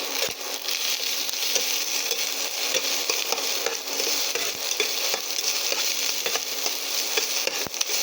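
Green chillies and a little onion fry in hot oil, a steady broadband sizzle running the whole time with occasional sharp crackles and pops, close and fairly loud, no voices.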